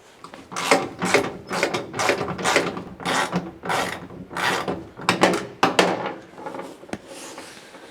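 A ratchet wrench works the bolts of a bench seat in a 1960s Chevrolet or GMC C10/C20 pickup truck. Close, rapid clicking bursts repeat in an irregular rhythm, one after another, with no voices.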